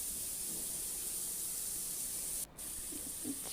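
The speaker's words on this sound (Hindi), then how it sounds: "चिकन डाल के हमने इसको खूब अच्छी तरह भूनना है" Chicken roasting bhuna-style in a pan gives off a faint, steady sizzling hiss, unbroken apart from one brief dip.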